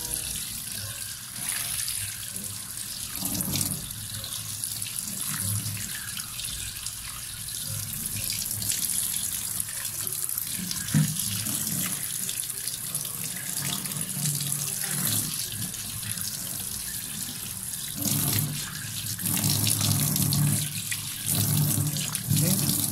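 Steady running water from a tap, a constant close hiss and splash with faint background sounds and occasional louder surges.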